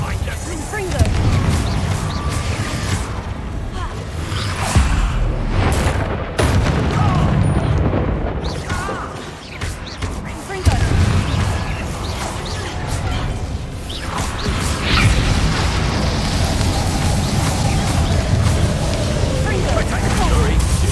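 Booming magical blasts and crashes from the Confringo spell in Hogwarts Legacy come in a loud, dense run of explosions and whooshes. Talk and shouting play over the action.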